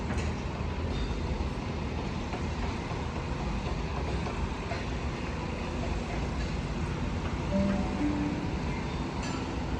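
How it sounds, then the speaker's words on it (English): A Sydney Comeng V set train rumbles steadily alongside a platform, a loud continuous rolling drone of wheels and motors with a faint brief whine near the end. "The next train to arrive on platform 10 is here."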